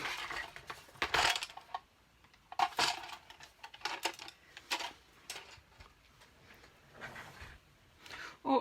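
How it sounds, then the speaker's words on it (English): A camera gets knocked on a craft desk during a watercolour-pencil card-colouring session, producing a few sharp, close clattering knocks and rattles at irregular moments with quieter gaps between them and no talking. "Oh, I've just knocked my camera"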